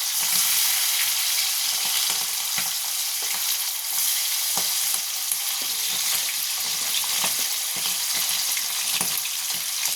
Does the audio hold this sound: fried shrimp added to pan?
yes